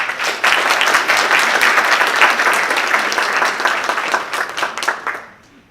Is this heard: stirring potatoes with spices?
no